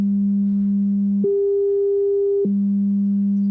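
Pure electronic sine tone stepping from 200 Hz up an octave to 400 Hz and back down, three steady held segments, clean and constant in level with no other sound.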